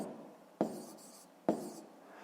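Pen strokes on paper as numbers are written by hand for a fifth-grade decimal rounding exercise: two sharp taps each followed by a short scratching drag, close and quiet, with no voices.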